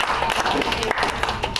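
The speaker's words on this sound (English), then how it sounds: "let's give them a round of applause as well to be at the satsang today" A crowd at a Krishna Janmashtami satsang applauds in a brief, dense patter of many hands clapping at once, close and steady.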